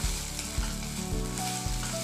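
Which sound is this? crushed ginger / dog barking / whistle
crushed ginger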